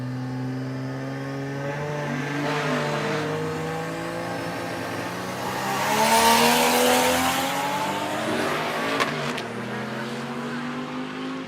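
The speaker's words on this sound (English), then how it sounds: "is that how loud the exhaust is all the time?" A drag race car engine idles with a deep drone, then revs up loudly around the middle before settling back, with a brief sharp clatter near the end.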